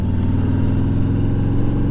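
A Harley-Davidson motorcycle engine drones steadily at close range throughout the ride, with a low, even mid-range rumble and no talk.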